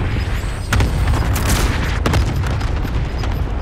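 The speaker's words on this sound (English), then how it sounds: "Throwing frag!" A frag grenade blast in Call of Duty: Modern Warfare, a loud booming explosion with rumbling, crackling gunfire-like bursts sustained throughout, no voices.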